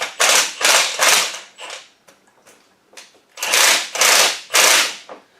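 A ratchet wrench loosens a bolt on an engine during a timing belt check. Close, loud bursts of rapid clicking come in two groups of about three, with a short quieter pause between them.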